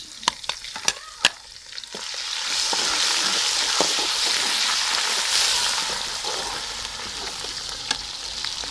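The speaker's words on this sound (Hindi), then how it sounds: "अब मैंने घी डाल के प्याज को ब्राउन होने के लिए रख दिया है। अब मैं डालने लगी हूँ अदरक और लहसुन का पेस्ट।" Onions browning in hot ghee as ginger garlic paste is added: a few sharp spoon clacks against the pan, then a loud, steady sizzle with stirring that keeps going close up, without any talking.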